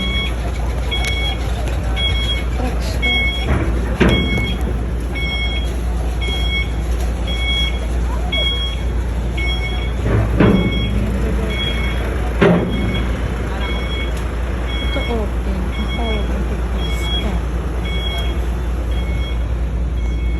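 A vehicle being loaded for transport at night in Gamay, Northern Samar, sounding steady evenly spaced reversing beeps over a constant low engine rumble, with a few louder knocks and clunks nearby.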